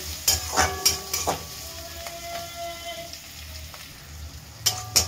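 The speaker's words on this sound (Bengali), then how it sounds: "রসুনটা একটু লাল লাল করে ভাজা হবে" Chopped onion and garlic fry in a pan, a soft steady sizzle broken by several sharp clinks and scrapes of a spatula stirring, closer bursts near the start and end.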